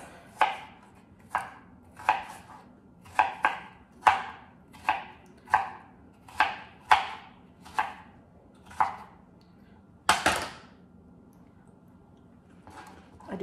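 A knife chops a cucumber into small chunks on a board: about a dozen crisp, evenly spaced knocks, close and distinct, with a brief pause near the end and no talking.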